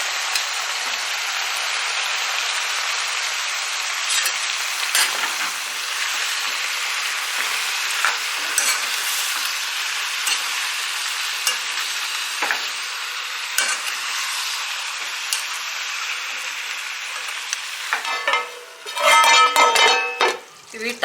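Tomatoes with tamarind fry in a pan for mutton curry with a steady sizzle, as a spoon stirs and scrapes with clinks against the metal, louder clattering near the end, and no talking.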